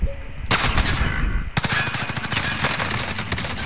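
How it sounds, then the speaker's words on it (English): Automatic gunfire in the video game Call of Duty: Modern Warfare, rapid sustained bursts of loud shots starting after a quieter lead-in and growing denser and harsher for the last two seconds. "Another one shooting at me."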